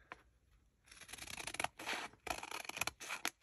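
Scissors cutting a piece of paper for a refillable list journal, close crisp snips and a long sliding cut in quick bursts with short pauses between, no voice over them.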